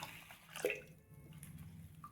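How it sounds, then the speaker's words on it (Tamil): Raw white rice is washed in a bowl of water, with soft sloshing, dripping and light swirling close by. It stays quiet and steady throughout, and no one speaks. "இதை தண்ணி ஊற்றி நல்லா கழுவிட்டு ஊற வச்சுக்கலாம்"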